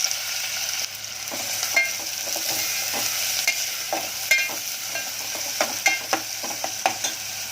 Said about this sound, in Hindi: अब तेल गरम हो गया, इसमें जाएगा प्याज।